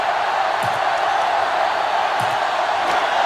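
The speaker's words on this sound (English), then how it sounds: "So this crowd is making their presence felt." A stadium crowd roars steadily in the NCAA 2005 football game on Xbox during Ohio State versus Michigan, a dense, even wash of cheering noise that holds unbroken throughout, with no voices standing out.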